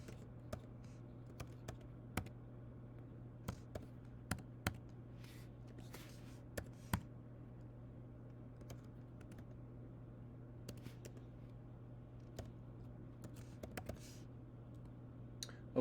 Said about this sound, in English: So now I'm going to type in my billing info.